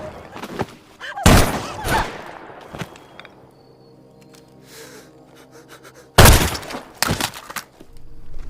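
Gunshots ring out in a Korean drama set during the Japanese occupation, with loud sharp blasts near the start and again later, separated by quieter stretches holding gasps and faint sounds.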